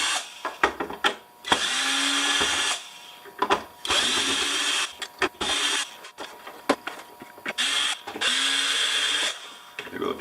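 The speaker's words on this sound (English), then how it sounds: "start taking whatever screws out I can find" Cordless power drill backing screws out of a discarded electronic e-waste device, several loud whirring bursts of a few seconds each, separated by clicks and handling clatter, close by.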